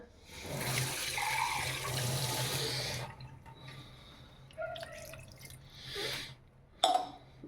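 Water pours into a cooking pot in a home kitchen, a splashing stream for a couple of seconds. Quieter trickles and drips follow, with a brief clatter near the end.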